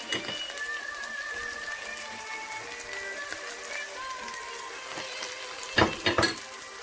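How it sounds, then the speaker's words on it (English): Yogurt mixed with chili powder, cumin, coriander and salt, added to hot oil in a pan for chicken dopiaza, hissing and sizzling steadily, with a few sharper clatters of stirring near the end. "Now I'm going to add my mixture of my yogurt, chili powder, cumin powder, coriander powder and salt."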